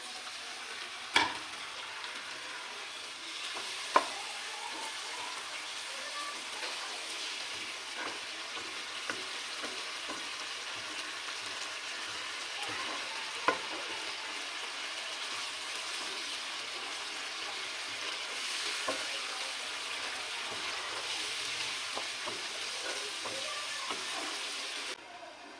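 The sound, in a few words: chicken karahi sizzling and cooking in a pan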